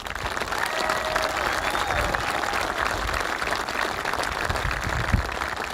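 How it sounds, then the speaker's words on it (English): Sustained audience applause at a high school commencement ceremony, a dense steady wash of many hands clapping throughout, fairly distant and even, with a faint crowd murmur beneath. "give them a round of applause."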